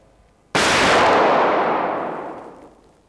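A single loud gunshot goes off during shooting practice after a brief quiet moment, then its long decaying echo rings out and fades over the next couple of seconds, with no voices.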